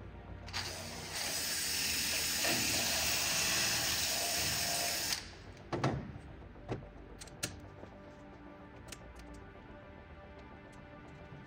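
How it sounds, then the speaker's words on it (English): An offset drill whines at high speed for about four seconds, cleaning powder coat out of a hole in an aircraft control tube, followed by quieter scraping and clicking taps. "clean out the powder coat in that hole. I'm going to use my offset drill for that"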